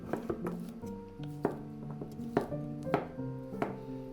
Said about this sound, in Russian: отрезаем у них кончики и нарезаем